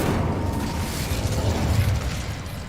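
Incendio fire spell cast in Hogwarts Legacy, producing a sustained roaring, crackling burst of flame with a heavy low rumble that holds steady throughout.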